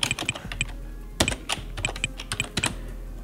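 Computer keyboard typing in irregular bursts of close key clicks, no voices, while a file name is entered during AWS CodePipeline setup.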